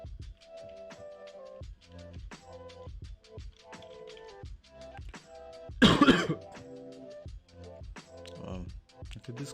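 Someone gives one loud, harsh cough close to the microphone in the middle of ongoing speech, with a smaller throat-clearing sound shortly after.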